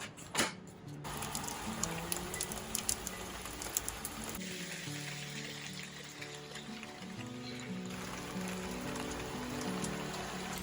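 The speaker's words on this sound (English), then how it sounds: "Oh, it's raining." Steady rain falls and patters on a surface nearby, with a few sharper drips and knocks early on, no talking.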